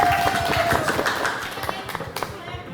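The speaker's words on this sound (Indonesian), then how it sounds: "Tepuk tangan untuk kelompok 1." Scattered hand claps from a classroom audience greet a student group after its presentation, a short patter of quick slaps that thins out toward the end, with someone talking over the start.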